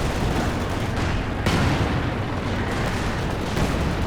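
Artillery fire in Company of Heroes 2, dense and continuous with heavy booming blasts over a rumbling battlefield din, no voices.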